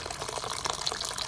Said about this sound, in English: Here I'm just gonna add some boiling water